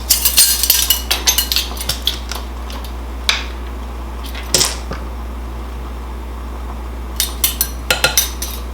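A spoon scrapes and clinks against a bowl while peanut butter frosting with vanilla is mixed, giving irregular taps and creaky scrapes over a steady low hum.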